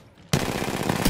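Rapid automatic gunfire in a battle royale video game, a loud, dense burst of shots starting abruptly and running continuously for about a second with no talk.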